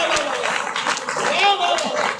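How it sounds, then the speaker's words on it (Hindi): Audience clapping at a live Hindi stand-up comedy show, a steady dense wash of applause holding throughout at even loudness, with a voice calling out over it. "एक बार जोरदार तालियां दो।"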